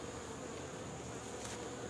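Honey bees buzz around a hive running low on bees being readied for cold weather, a soft continuous drone that stays faint and steady throughout, with no voices.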